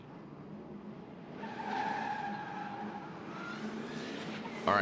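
Drift car at a Formula Drift Pro Spec knockout qualifying round in St. Louis, launching and sliding with a rising engine note and tire skid that builds loudly and holds, ending in a sharp burst.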